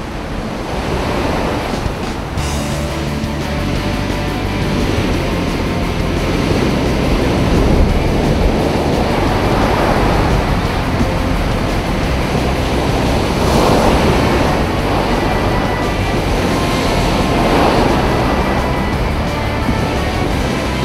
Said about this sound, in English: The waves are just starting to sit up there.